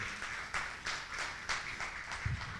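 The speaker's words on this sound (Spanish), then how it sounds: "Dale un aplauso al Señor grande." Church congregation applauding the Lord after a sermon point, a steady wash of many hands clapping with a few louder bursts, moderately loud and continuous.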